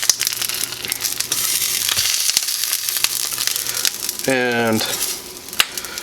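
Belgian endive cooks in a hot pan with a steady, close sizzle and a few clinks of utensils, while someone briefly speaks near the end.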